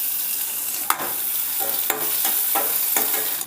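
Crushed garlic sizzles in hot tempering oil with mustard seeds, urad dal, cumin and dried red chillies for an Andhra-style ridge gourd dal kootu, a steady close hiss broken by several sharp scrapes of stirring.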